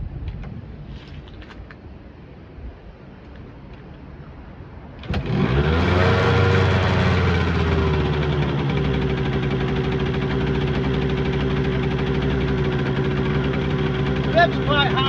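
A Yamaha RD80 two-stroke classic motorcycle on a freezing morning with the choke on fires up after a few seconds of quiet and settles into a loud, steady, fairly high idle close by.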